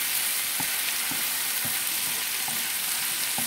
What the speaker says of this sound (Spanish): Vamos a mover todo esto.